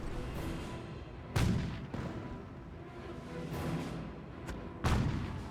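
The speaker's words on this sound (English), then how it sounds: "Here the mortar half track firing away." Mortar half-track firing in Company of Heroes 1, deep booming launches recurring at intervals of a few seconds over a steady battlefield rumble, with no talk.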